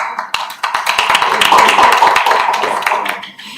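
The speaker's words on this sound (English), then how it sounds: "you can give yourself a big clap" Audience applause at an academic talk on Islamic sustainable development, a brief burst of many hands clapping, dense and fairly loud, tapering off toward the end.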